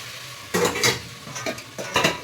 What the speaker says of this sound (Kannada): ಇದನ್ನು ಸ್ವಲ್ಪ ಹೊತ್ತು ಫ್ರೈ ಆಗೋದು ಬಿಡ್ತೀನಿ ಎಣ್ಣೆಲಿ, ನೀಟಾಗಿ ಎಣ್ಣೆಲೆಲ್ಲ ಫ್ರೈ ಆಗಬೇಕು